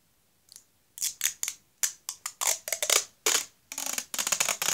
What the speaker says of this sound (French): Après, le bruit du ciseau vous relaxe.